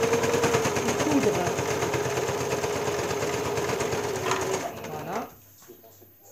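A sewing machine stitches bias tape onto an apron in one steady, fast mechanical whirr, then stops, and a voice speaks briefly at the end.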